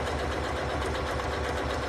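A sewing machine hems a fabric ruffle layer, a steady fast mechanical whir and rapid stitching chatter running continuously and close by.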